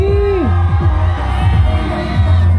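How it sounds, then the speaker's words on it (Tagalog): A loud outdoor crowd at a festival grand parade in Calamba roaring and cheering continuously, with whoops and shouting voices blending into a dense, festive din. "O isang malakas na hiyawan ng mga LGBT."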